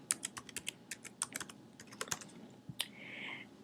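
Quick, light clicks of typing on a computer keyboard, a burst of irregular keystrokes followed by a few spaced taps, close and fairly quiet.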